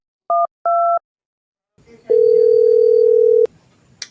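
A telephone call being placed: two short dialing beeps, a pause with faint background noise, then a long steady tone for over a second before it cuts off abruptly.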